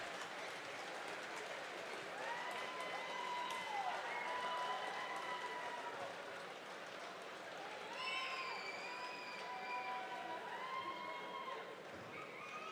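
A high school basketball crowd at Middle Township rises in a standing ovation during an NJSIAA playoff game, sustained applause and cheering with scattered high whistles, heard from a distance at low volume.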